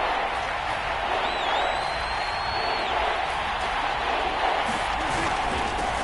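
Stadium crowd noise in the Madden 22 football video game ahead of a big third down, a steady wash of cheering and murmuring that stays even and constant, with a whistle-like tone rising briefly above it.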